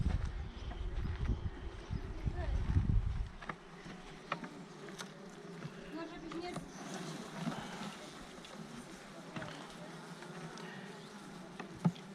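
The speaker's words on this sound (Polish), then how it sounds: "Pszczoły chodzą" Honeybees in an open hive hum and buzz close by, with a louder rumbling burst at first that settles into a softer, steady drone with scattered clicks.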